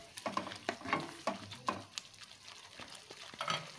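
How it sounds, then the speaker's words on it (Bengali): Tamarind pickle boiling in a pan is stirred with a utensil, giving a run of uneven scraping and clinking knocks over a soft, low bubbling hiss. "আর এটাকে বেশ নাড়াচাড়া করে ফুটতে দেবো।"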